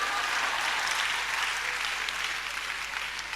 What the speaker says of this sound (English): You better clap because it's the truth.